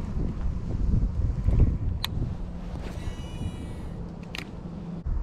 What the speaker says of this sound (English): This wind is freaking bitter.